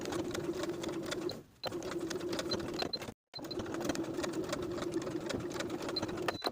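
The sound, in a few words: sewing machine stitching garment shoulder facing seam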